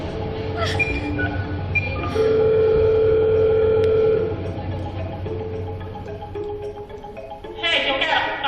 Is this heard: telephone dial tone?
yes